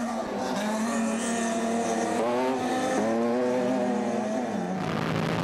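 Factory Castrol Toyota Hilux rally trucks pull away from the start of a desert rally, engines loud and revving hard with rising gear pulls, close and continuous.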